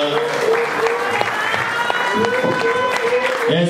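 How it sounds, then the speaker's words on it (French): A church congregation applauds to acclaim the Lord, a steady wash of clapping from a crowd throughout, with a voice speaking and singing over it. "Est-ce qu'on peut acclamer le Seigneur?"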